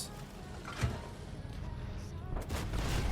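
Tank cannon fire in the mobile game World of Tanks Blitz, a dull boom early on over a continuous rumbling engine bed, with a player's excited voice talking throughout.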